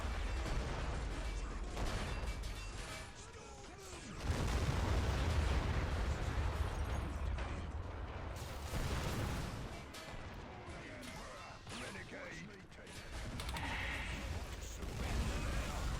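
Plasma gun fire and grenade blasts in a Warhammer 40k game with Ultramarines in battle, a dense, continuous roar of booming explosions and crackling shots, loud and layered throughout.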